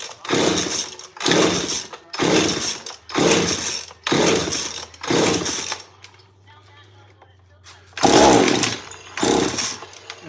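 Repeated pull-starting of a small chainsaw engine after repair, with fuel lines redone and a ported muffler: six rhythmic rasping pull-cord bursts, a short pause with faint clicking, then two more pulls, close and loud, no firing.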